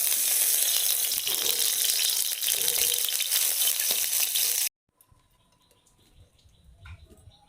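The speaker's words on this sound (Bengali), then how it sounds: "ভাজার জন্য তেল দিয়ে দিচ্ছি।" Oil sizzles loudly and steadily in a pan, heating to fry a hilsa fish head. The sound cuts off abruptly partway through, leaving only faint, quiet rustling.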